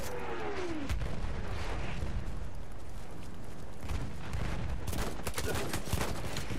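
Shotgun and other weapons firing during a Battlefield 1 operations battle: a dense, continuous din of gunfire with repeated sharp reports, especially in quick bursts toward the end, over a heavy battlefield rumble.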